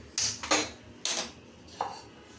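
Metal pans clank against a stovetop in a home kitchen while dal powder ingredients are readied for roasting: three sharp, close knocks spaced about half a second apart, then a lighter ring.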